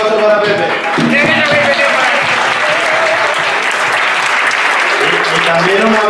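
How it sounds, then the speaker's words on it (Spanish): Loud, steady applause from an audience for Pepe, organizer of a historic vehicle rally and migas gathering in Fuengirol, with voices and cheers mixed into the dense clapping throughout. "Un aplauso para Pepe."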